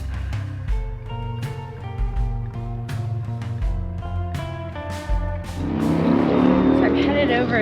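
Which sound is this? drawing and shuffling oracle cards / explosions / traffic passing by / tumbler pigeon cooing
traffic passing by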